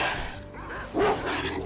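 A dog in the video game STALKER Dead Air gives a brief, fairly close bark or two over a steady ambient background hum.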